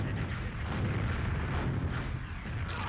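Rocket explosions and continuous game action from a Team Fortress 2 one-versus-one competitive match, a dense, loud rumbling wash of blasts with no clear pauses.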